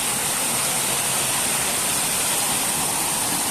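Mother Falls waterfall in Barangay Santa Ines, heard as a steady, dense broadband roar of falling water that holds at an even loudness throughout, with no voices over it.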